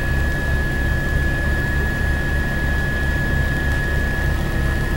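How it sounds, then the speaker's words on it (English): Helicopter airborne over New York on September 11, 2001, a steady, loud rotor and engine drone with a low pulsing throb and a constant high whine, unbroken throughout with no voices. "There's a helicopter."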